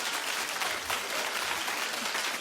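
A television studio audience claps steadily and loudly throughout, a dense continuous wash of applause with no talk over it.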